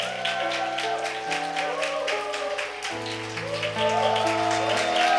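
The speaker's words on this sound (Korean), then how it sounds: "네, 박수해 주세요." Church congregation applauding to welcome newcomers at a midweek worship service; steady clapping runs under sustained keyboard or organ chords for the whole stretch.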